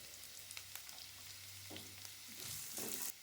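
Carrots cook with garlic in a pan, giving a continuous soft sizzle and frying hiss with a few light stirring scrapes, quiet throughout and with no talking.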